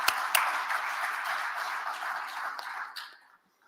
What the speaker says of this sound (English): please lead me in a round of applause to all our sponsors.